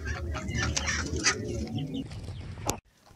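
Chickens cluck in a small busy flock as they head up the ramp into their coop, close and moderately loud, their short calls tumbling over one another before cutting off near the end.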